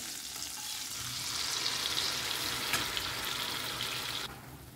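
Green paste sizzling as it is added to melted butter and oil in a pan, a loud bright frying hiss that holds steady before dropping off abruptly near the end.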